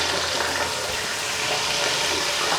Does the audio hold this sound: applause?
no